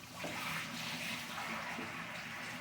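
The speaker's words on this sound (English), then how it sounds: "I'll dump some of this water out." Water is poured out of a pan into a sink, a soft continuous splashing gush lasting a couple of seconds, quiet and close.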